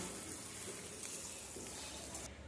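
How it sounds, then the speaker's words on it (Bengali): Onions browning in oil with a little salt, frying for a chicken curry, give a steady, dense sizzle that holds evenly throughout with no talking over it. "পেঁয়াজটা একটু লাল করে ভেজে নিচ্ছি।"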